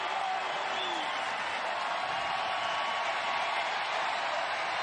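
Stadium crowd at a USL Championship soccer match between Tampa Bay Rowdies and Louisville City in Tampa Bay, Florida, roaring and cheering in a steady, dense wash of voices throughout.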